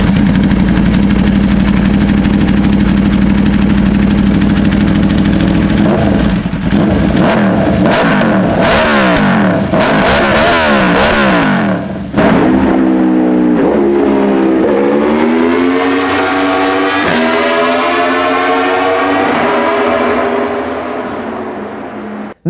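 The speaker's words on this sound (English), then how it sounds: "The Aprilia RSV4 has a distinct sound that's a blend of the rumble you usually find in supercars" A loud Aprilia RSV4 V4 motorcycle engine idling, then revving hard in sharp bursts before climbing through several rising, sustained high-rpm pulls.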